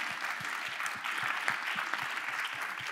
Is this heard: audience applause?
yes